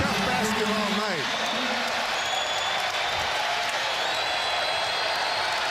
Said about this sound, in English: Crowd being prompted by the big board here to make some noise